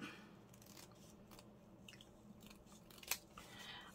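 Scissors snip through fabric pieces for decorated pockets in a quiet, close series of crisp cuts with a soft rustle of cloth.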